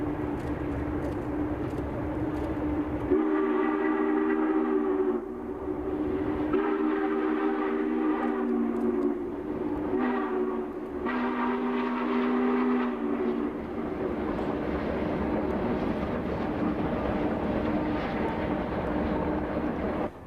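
A Southern Pacific 4449 steam-hauled train rumbles past steadily below Table Mountain north of Oroville, its horn sounding in several long blasts with short gaps, fairly distant and moderately loud.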